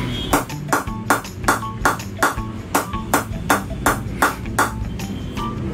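Cricket bat struck in a steady series of about fourteen sharp, ringing taps at an even rhythm, close and clear, with no voices over them.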